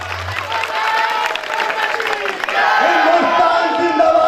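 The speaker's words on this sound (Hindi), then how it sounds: "दोस्तों बजाओ भारत माँ के लिए ताली" Crowd at a Ramleela patriotic stage program in Manasa clapping and cheering for Mother India, a dense steady wash of applause with voices mixed in, growing louder partway through.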